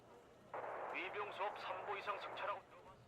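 Artillery firing in the military strategy video game Wargame, with muffled, rapid rumbling bursts packed close together, moderately quiet and steady, over faint background hum.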